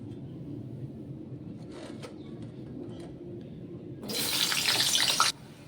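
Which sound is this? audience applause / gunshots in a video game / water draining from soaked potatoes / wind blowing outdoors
water draining from soaked potatoes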